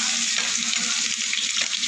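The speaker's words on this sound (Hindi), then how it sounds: "तो हमारा तेल गर्म हो चुका है, इसमें हम डालेंगे तेज पत्ता और ये हमारी दालचीनी" Bay leaf and cinnamon fry in hot oil in a pan for palak paneer, a brief, steady, close sizzle with dense crackling throughout.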